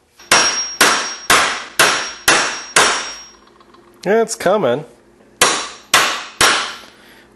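Hammer blows striking a steel shaft to drive it out of a sand-cast aluminum crank, about ten sharp metallic clangs in a steady rhythm, close and loud, briefly interrupted by a short spoken remark.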